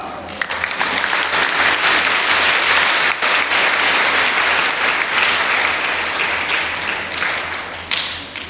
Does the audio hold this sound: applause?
yes